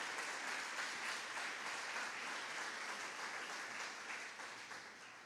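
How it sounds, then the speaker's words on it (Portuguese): A church congregation applauds in a dense, steady wash of clapping that holds for several seconds and then fades slightly at the end. "Você pode aplaudir a Jesus?"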